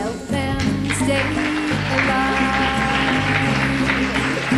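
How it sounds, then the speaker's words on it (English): Audience applause at a 1993 award show, steady clapping from a crowd that runs throughout, mixed with a musical performance playing alongside it. "Stand up and clap for the animals."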